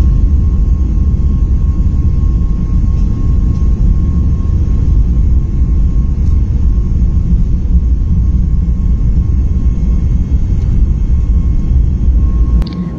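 Air India airliner taking off, a loud steady broadband engine roar with deep low rumble filling the whole span inside the cabin, with no speech.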